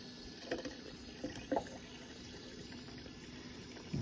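Water runs into a bottle from a DIY pressurized camping water tank, a faint steady hiss with a few brief gurgling splashes, quiet and close, with no speech.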